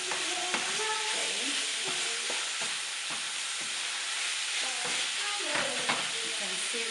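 Minced meat sizzles steadily in a hot pan for a shepherd's pie, with repeated scraping and stirring strokes from a utensil cutting through the constant frying hiss; no talking.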